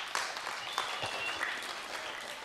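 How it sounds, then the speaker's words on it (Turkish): Studio audience applause on a Turkish television talk show, fairly quiet and scattered, with individual claps standing out in an uneven patter and no steady roar. "işte o parmakları da bir alkışlayın şimdi"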